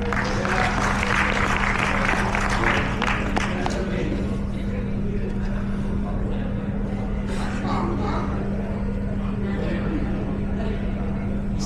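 A seated audience at an MDRT insurance gathering breaks into steady applause, a dense wash of clapping that holds evenly throughout beneath a constant low hum, with no lull.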